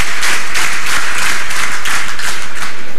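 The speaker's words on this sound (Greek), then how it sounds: "Με παρατεταμένα χειροκροτήματα υποδέχθηκαν τον Πρωθυπουργό τα μέλη της Κεντρικής Επιτροπής" Sustained applause from party Central Committee members greeting the Greek Prime Minister at a New Democracy meeting, a dense, steady wash of many hands clapping throughout with no clear speech.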